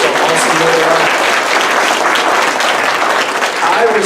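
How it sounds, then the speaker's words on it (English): A church congregation applauds its worship band in a continuous, loud, dense roar of clapping that holds steady throughout, with crowd voices mixed in. "let's give the whole band a round of applause"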